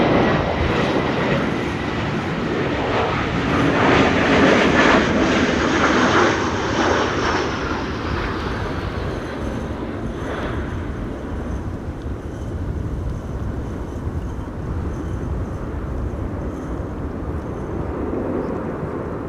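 An A320 airliner, registration PH-AIZJ and about 15 years old, passes at Amsterdam Schiphol in high winds, with a loud engine roar and a falling whine that gradually fades into steady rumble.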